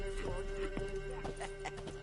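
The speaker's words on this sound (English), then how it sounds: "Horse." Horse hooves clop in a quick uneven rhythm with a short whinny in The Witcher 3: Wild Hunt, close by over a steady game ambience hum and a faint voice.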